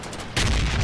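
Hip-fire shooting in a video game, a sudden loud burst of gunfire breaking in after a brief quiet moment and continuing as a dense, booming volley to the end.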